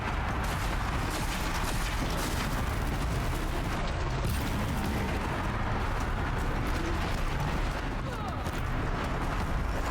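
Heavy, continuous booming and rumbling battle noise from cannon fire in the action game Horizon Zero Dawn, dense and loud throughout with no clear gaps between blasts.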